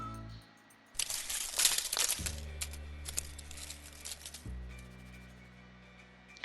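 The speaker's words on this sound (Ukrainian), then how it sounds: "Це шум листопаду." Dry autumn leaves fall and rustle in a crisp, crinkling patter that swells, then thins out, with soft sustained musical tones underneath.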